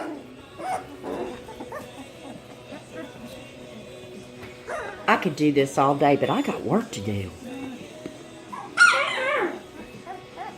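Three-week-old puppies whimper and yip in high, squeaky bursts close by, louder in the middle, while someone talks over them.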